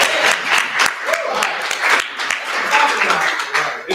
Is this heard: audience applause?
yes